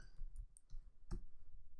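Mouse clicks while working in Canva on an animated Instagram post, a couple of faint, soft clicks near the start and one sharper click past the middle, over quiet room hiss with no talking.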